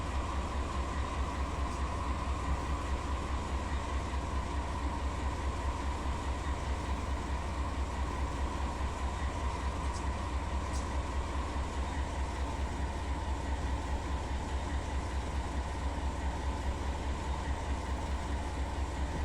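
A loaded intermodal freight train in Run 8 Train Simulator rolls on at a steady pace, a continuous dense rumble and drone with a constant even texture and no voices.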